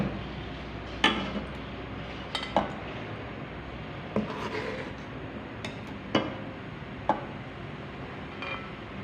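Black pepper chicken being served out of a kadai, with scattered metallic clinks and scrapes of a utensil against the pan, about six sharp knocks spread over a quiet kitchen background.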